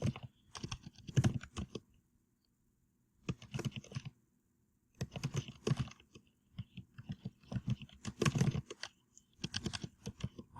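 Typing on a computer keyboard, close and fairly quiet, in several bursts of rapid clicky keystrokes separated by short pauses, with no talking.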